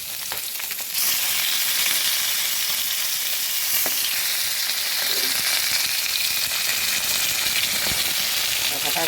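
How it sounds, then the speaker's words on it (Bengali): Rohu fish head sizzling and frying in hot oil, a steady loud crackle that swells after the first second and continues with occasional sharper spits. "এবার দিয়ে দেবো মাথাটা।"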